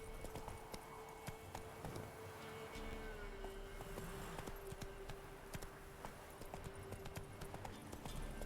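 Roach, a horse in Witcher 3, clip-clops steadily across an unstable-looking bridge, hooves faint and regular beneath a soft, constant background tone.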